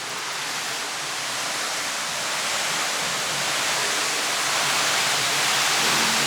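Rushing water at a large water wheel on an industrial heritage site, a dense, steady broadband roar that swells slightly louder over time, with no talk.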